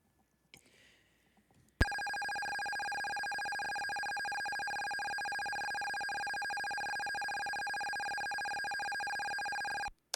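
An old phone rings with a continuous, bright electronic tone that starts abruptly after a moment of faint noise and holds steadily for about eight seconds before cutting off.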